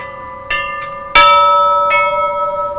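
Middle chime bells of a church belfry, played with the left hand at a bell-ringing class in Cherepovets, give four ringing strikes in an uneven rhythm, the third loudest, with long overlapping sustain, close and alone.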